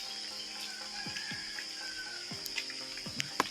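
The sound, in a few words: rain falling in the village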